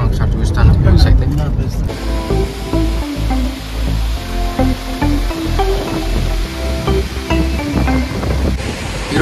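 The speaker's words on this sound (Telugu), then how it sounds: "వాటర్ ఫ్లో ఉంది, ఓవర్ ఫ్లో అవుతుంది." Water overflowing at Srisailam Dam, heard as a loud, continuous rushing roar. Strong wind buffets the microphone throughout, and someone talks over it.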